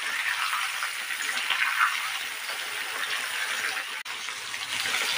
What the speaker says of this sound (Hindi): तेज आंच पर फ्राई करना है